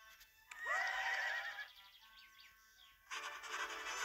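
A horse neighs in the Zoo 2: Animal Park video game, a loud rising whinny followed by a second burst, with faint bird chirps in the background.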